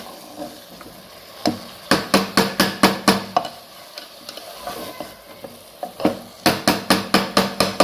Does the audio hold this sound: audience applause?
no